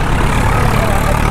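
Swaraj tractor engine, with a steady, loud, low diesel rumble and a rhythmic chug, heard close and continuous with no talk.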